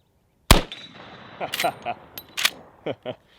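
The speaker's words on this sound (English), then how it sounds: "we're going to function check it because I haven't got to shoot this gun in a long time" A Henry lever-action rifle chambered in 45-70 fires one sharp, loud shot, then the lever is worked in a series of metallic clacks and clicks, with a person talking briefly.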